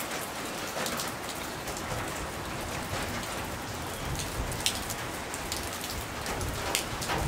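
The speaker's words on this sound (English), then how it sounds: "Rain, rain, and more rain." Heavy rain from Storm Dennis pours down in a dense, continuous hiss, with sharper drops and splashes rising now and then out of the steady downpour.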